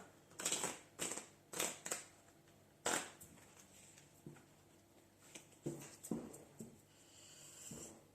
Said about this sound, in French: on remélange un petit peu